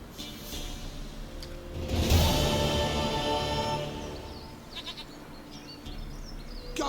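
A goat in The Witcher 3 gives a single drawn-out bleat at moderate volume over a low ambient background, followed by faint scattered game sounds.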